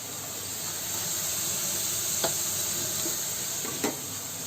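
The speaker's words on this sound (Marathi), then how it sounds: "तर कांदा चांगला फ्राय होतोय." Onion frying in oil with a pinch of asafoetida makes a steady, hissing sizzle close up, broken by two brief scrapes of a spoon stirring the pan.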